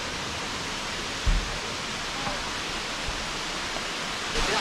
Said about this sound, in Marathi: तुम्ही पाहू शकता केवढा मोठा धबधबा आहे इथे